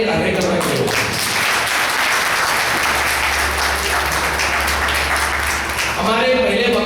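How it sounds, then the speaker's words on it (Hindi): An audience claps loudly for a community event in a hall, a dense, sustained roar of applause lasting several seconds, with a voice heard briefly at the start and again as the clapping tapers off. "एक बार जोरदार तालियां कार्यक्रम के लिए।"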